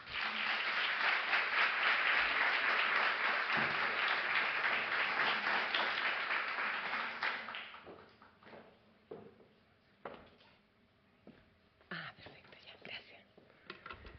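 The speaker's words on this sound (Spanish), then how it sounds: "Un aplauso para Sara." Audience applause for Sara Bertrand as she is welcomed to give her keynote talk on children's language, a dense, steady clapping that fills the first half, then fades into scattered claps and rustling with murmured voices.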